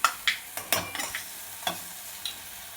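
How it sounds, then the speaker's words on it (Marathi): Masala roasting in a pan for a spicy crab fry, heard as a series of quick spoon scrapes and stirring clinks over a faint sizzle, close and sparse without any talk. "आता मसाला चांगला भाजून घेऊया पहिल्यांदा आणि मग आमसूल टाकूया शेवटी।"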